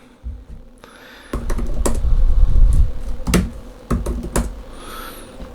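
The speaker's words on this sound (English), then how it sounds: "So it would be easier to kind of show the typing experience on it." Typing on an Apple Magic Keyboard for the 11-inch iPad Pro: after a quiet start, a dense run of close, crisp key clicks with several sharper taps, steady and alone with no talk.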